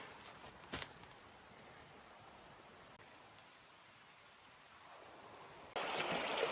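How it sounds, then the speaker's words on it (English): Nana Creek running through bushland beside old gold-mining relics, a soft steady wash of flowing water at low level, with a brief knock early on and a louder burst of rushing noise near the end. "down here you got this beautiful creek, Nana Creek"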